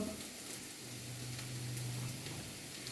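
Carrots sautéing in a pan, a soft steady sizzle with faint stirring, quiet and continuous, with no talking.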